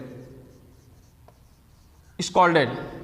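A word is written on a classroom board during a grammar lesson, with faint scratchy strokes followed by a voice speaking close and clear near the end.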